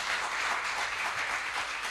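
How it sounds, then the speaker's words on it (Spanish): Church congregation clapping in praise of the Father during a Spanish-language sermon, a brief, fairly soft wash of many hands applauding together at an even level. "dele fuerte ese aplauso al Padre."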